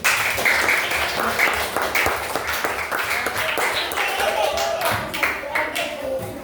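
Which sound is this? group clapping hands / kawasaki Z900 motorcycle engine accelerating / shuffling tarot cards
group clapping hands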